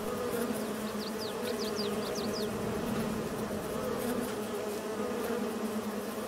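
Bees buzz steadily and closely in the Farming Simulator 22 video game, a continuous droning hum with faint chirps over it, and no talking.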